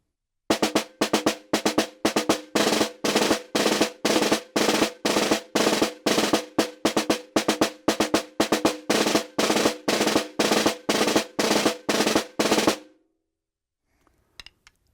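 A snare drum plays a bounce-stroke roll exercise, with multiple buzzed strokes on each sixteenth note. Dense, evenly spaced bursts run loud and close for about twelve seconds, then the drum stops and a few faint taps follow.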